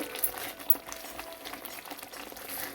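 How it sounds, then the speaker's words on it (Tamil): Cauliflower curry gravy bubbling in a pot after the lid comes off, with a soft, steady boil and scattered small pops and spatters. "நல்லா கொதிச்சு வந்துட்டுது"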